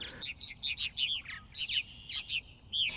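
A flock of purple martins calling around nesting gourds on a farm, a rapid series of bright chirps and gurgling warbles in short bursts, close and clear over quiet background.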